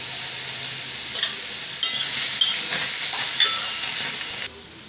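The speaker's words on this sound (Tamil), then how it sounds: "இதிலே தக்காளி சேர்த்துடலாம். கொஞ்சம் இதுக்கு தேவையான உப்பு சேர்த்துட்டு வதக்குவோம்." Tomatoes with salt sautéed in a pan for a tomato sesame chutney give a steady, close sizzle broken by scraping stirs, which cut off abruptly near the end.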